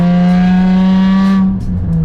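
A straight-piped Nissan 350Z while driving makes a loud, steady droning exhaust hum heard from inside the car, which eases off toward the end.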